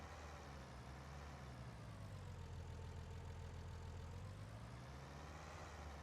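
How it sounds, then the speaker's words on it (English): A tractor engine idles in Farming Simulator 19, a steady low rumbling drone that holds even and continuous throughout, with no talk. "let's hop up into our tractor here. Head on out."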